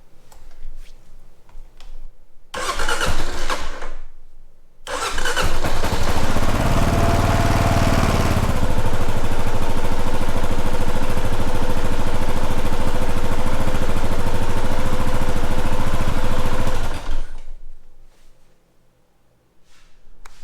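A motorcycle engine briefly cranks and catches, stops, then starts again and settles into a loud, steady idle close by for about twelve seconds before shutting off.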